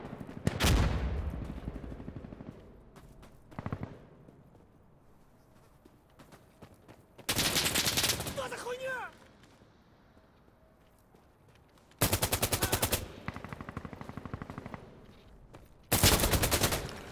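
Machine gun fire in a multiplayer shooter game: several loud, rapid bursts of automatic fire spaced across the stretch, with quieter game ambience in the gaps between them.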